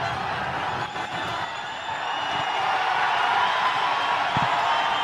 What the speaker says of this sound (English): The roar gets louder. The crowd erupts in joy.